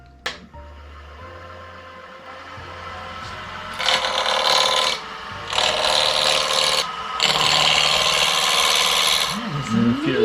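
A spindle roughing gouge cuts wood spinning on a lathe in a workshop, giving three loud, rough, scraping bursts after a quieter opening, with no talk.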